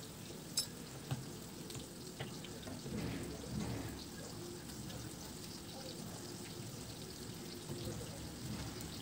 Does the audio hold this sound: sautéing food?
yes